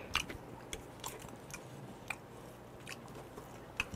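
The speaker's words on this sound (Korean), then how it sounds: "그래서 일단 눈알은, 이제 먹고" A yellow croaker fish eyeball is chewed close up, with faint, soft, wet clicks and crunches repeating irregularly over a quiet background.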